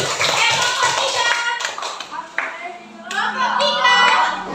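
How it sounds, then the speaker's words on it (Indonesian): A class of children claps in a burst of scattered, overlapping applause that rises and falls over a few seconds, with children's voices chattering alongside. "Kasih tepuk tangan."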